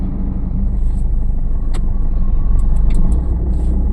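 A car idles and creeps with the clutch held at the biting point during a driving lesson, giving a loud continuous low rumble with a few faint high clicks over it and no talk.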